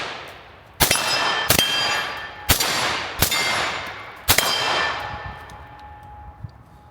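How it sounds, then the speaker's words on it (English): Five loud rifle shots ring out at a range with a Vector Optics Frenzy Plus red dot mounted, spaced about a second apart, each a sharp crack trailing into a metallic ringing decay before fading to quiet. "Let's put a few more rounds through her before we close her out."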